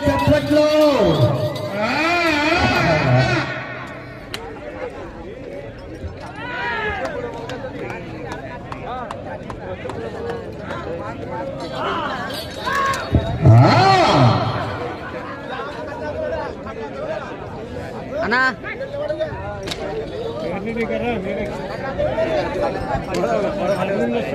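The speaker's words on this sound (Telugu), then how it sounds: "జనాల స్పందన విజిల్లు కేకలు" A crowd at a senior-category bull race in Rajoli whistles and shouts throughout, with loud overlapping voices, whistles and cheering rising and falling steadily.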